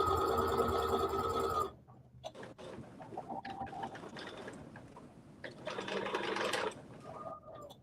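A sewing machine runs steadily as it stitches a dress seam, a close rapid mechanical whir. It pauses, then comes back in shorter bursts mixed with the clicks and rustles of fabric being handled, and no voices are heard.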